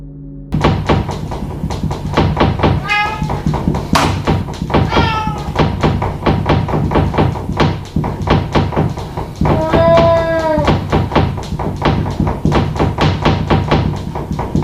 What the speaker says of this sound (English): The recording reveals an odd knocking sound that appears to disturb the cat on a different evening.